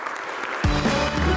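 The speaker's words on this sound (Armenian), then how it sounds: "խնդրեմ ծափարենք" An audience bursts into applause partway through, dense clapping rising suddenly after a brief murmur and carrying on loudly to the end.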